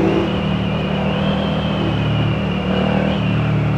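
A Honda Twister motorcycle with a 255 cc engine accelerates with a steady, loud engine drone and rumble, recorded close amid road and wind noise, with no talking.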